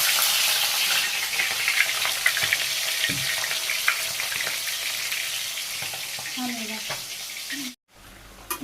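Marinated country chicken hitting hot oil in a village kitchen, a steady broad sizzle and frying hiss with occasional stirring clatter, fairly close, until it cuts out abruptly near the end.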